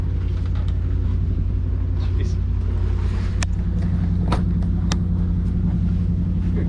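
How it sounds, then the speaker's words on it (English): A boat cruising Mosquito Lagoon on the Great Loop runs on its port motor alone, giving a steady, loud, low engine rumble throughout, with someone talking over it. "So I shut it down and I'm down to just the port motor again."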